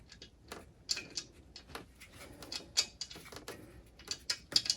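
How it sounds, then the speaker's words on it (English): Nuts being turned by hand onto threaded studs of a Mercruiser outdrive: faint, close metallic ticks and small clicks in an irregular rhythm, quiet throughout with no speech. "I'm going to position the nuts in place and carefully, without cross-threading them, screw them in."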